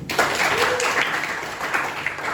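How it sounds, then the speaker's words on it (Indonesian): A school class in a computer lesson claps for a student, a short burst of many hands at moderate loudness that stays even over a couple of seconds. "Beri tepuk tangan untuk Arif"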